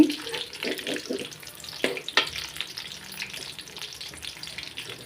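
Oil being poured into a pan to fry brinjal: a soft, continuous trickling and faint sizzle, close by, with a couple of sharp clinks partway through and no speech.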